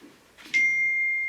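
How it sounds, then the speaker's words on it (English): Phone notification beep: a short soft chime followed by a clear sustained electronic tone that rings steadily, close and moderately loud, in an otherwise quiet room. "Oh, that's my phone, sorry."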